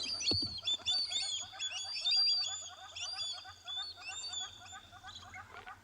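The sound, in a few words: birds calling as a young gymnogene flies off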